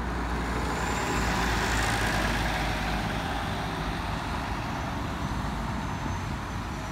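A bus engine idles and rumbles in street traffic, a steady loud low drone with surrounding road noise and a brief hiss that may be air brakes, no voices.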